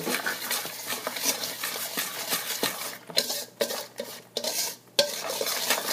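A whisk stirs egg yolk mixture into dry ingredients in a bowl, giving dense rapid scraping and clinking strokes, close and continuous, with a few short pauses between bursts.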